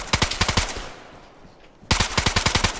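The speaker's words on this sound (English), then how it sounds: "getting shot at" Close, loud automatic gunfire in the survival game DayZ, two sharp bursts of evenly spaced shots separated by a second of quiet.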